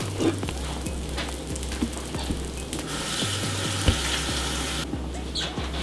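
Egg-dipped bread slices for French toast frying in a hot pan, a steady close sizzle with small crackling pops throughout and a low hum underneath.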